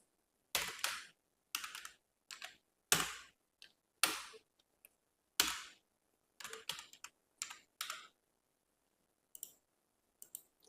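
A computer keyboard is typed on while entering text into an Excel spreadsheet, giving sparse, sharp, close key clicks and short bursts separated by pauses in a quiet room, with no talking.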